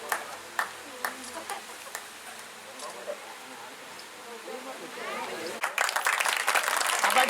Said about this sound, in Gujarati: તો તાળીઓથી બધા વધાવી